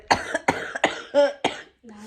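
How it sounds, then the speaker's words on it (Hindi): An elderly woman coughs repeatedly in close succession, several harsh hacking bursts with a short raspy vocal sound among them. "खांसी हो रही दादी"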